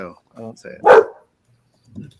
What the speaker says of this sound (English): Whose dog is that? That's my dog.